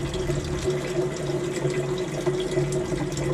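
Water runs steadily from an outdoor spigot being tested before an autofill hookup, a continuous close splashing rush with no speech.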